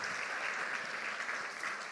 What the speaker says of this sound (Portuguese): aplaudi-los, irmãos, em nome de Jesus?